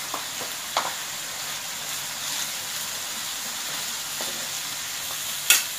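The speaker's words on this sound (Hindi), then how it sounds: "मेरा मसाला भून गया है देखिए अच्छे से, तेल भी छोड़ दिया है" Masala of coriander powder and Kashmiri chilli frying in oil for lauki kofta curry gives a steady close sizzle, with a few stirring scrapes and a louder clatter near the end.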